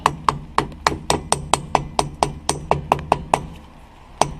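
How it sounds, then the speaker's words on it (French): A hammer taps a dust cap onto a wheel hub during a wheel bearing replacement, about fifteen sharp, evenly spaced close knocks in steady rhythm, then a short pause before one final tap. "on remet le capuchon cache-poussière, quoi. Attention de ne pas prendre un marteau en métal"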